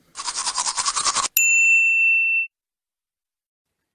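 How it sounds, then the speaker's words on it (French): A toothbrush scrubs teeth in a quick, rhythmic back-and-forth for about a second, then a bright chime rings out and fades. "Je me brosse les dents."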